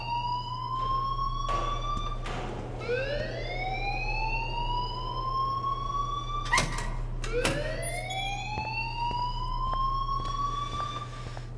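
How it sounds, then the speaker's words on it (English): In the video game Life is Strange, an alarm wails in repeated rising siren sweeps that climb and fall over a steady low hum, moderately loud and continuous, with brief sharp bursts between the sweeps. "please turn off that alarm since that's your job."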